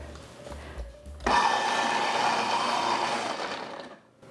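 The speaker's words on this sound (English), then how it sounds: "Our food processor is wonderful." A food processor shreds fresh farm ginger, its motor starting abruptly and whirring loud and steady for about three seconds before winding down, after a quiet lead-in with low rumble.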